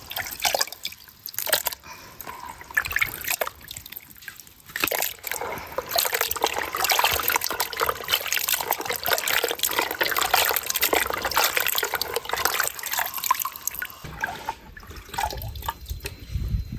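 Plums being washed in water outdoors, a continuous splashing and trickling with drips and sloshes, moderately close and without talk.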